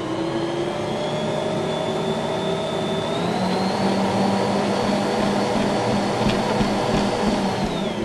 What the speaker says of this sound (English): This is the kneading of the bread, so you're not going to knead it by hand, you're just going to mix it in your mixer